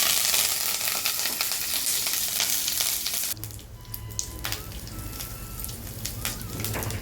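Curry leaves and chillies hit hot oil for a Tamil tempering while making upma kozhukattai, giving a loud, dense crackling sizzle that drops abruptly to a quieter, steady frying hiss.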